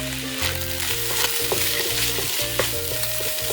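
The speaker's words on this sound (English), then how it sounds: "I need to add my garlic, so I'm going to go in with a nice big spoonful" Garlic and ginger frying with rice, a loud steady sizzle with the spoon scraping and tossing several times against the pan while a low hum drones underneath.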